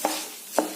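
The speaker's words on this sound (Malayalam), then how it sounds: "നെയ്യിലേക്ക് അരിയിട്ട് ഇതൊന്ന് വറുക്കും." Rice frying in ghee in a pot, giving a soft sizzle with two brief stirring scrapes about half a second apart, close and moderately quiet.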